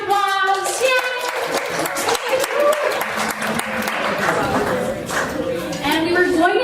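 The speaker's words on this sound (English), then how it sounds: "So big round of applause!" Audience applause at a university reading event, clapping mixed with cheering voices and chatter, including a voice, lively and close.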